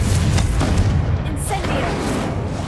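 The Confringo explosion spell in Hogwarts Legacy, a loud continuous booming blast with heavy low rumble and crackling debris, with voices talking over it.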